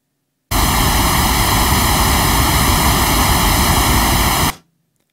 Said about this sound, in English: you check out the pink noise